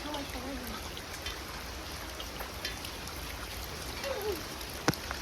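Rain falls steadily during outdoor fishing, a soft continuous patter that stays even throughout, while people call out and talk under it.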